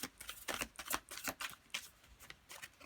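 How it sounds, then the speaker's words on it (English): Cards being shuffled close up, a quick riffling rattle repeating in short bursts, fairly quiet with no talking. "I don't like how that shuffle was getting sloppy."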